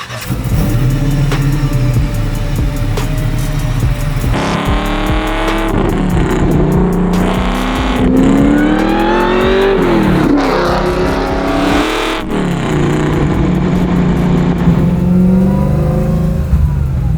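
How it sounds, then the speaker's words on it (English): A supercharged Chevy Camaro pro-touring build idles loudly up close, then is revved hard several times, its engine note climbing and falling in repeated sweeping surges as the car pulls away. "let's go drive the car"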